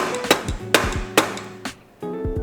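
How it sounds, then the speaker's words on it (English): A flathead screwdriver is hammered into the opening of a bicycle stem from a City 2023/2024 stem upgrade kit, giving four sharp, close metallic strikes spaced roughly half a second apart. "You're gonna take a flathead screwdriver, stick it in the opening and just hammer it"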